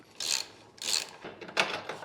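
Tools work a bolt loose from the suspension of a BMW M3 Competition with three short squeaky ratcheting bursts, close and moderately loud, with brief gaps between them.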